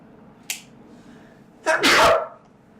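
A single sharp sneeze bursts out close and loud near the end, preceded by a short breathy intake, over a quiet background during Mega Man 2 gameplay.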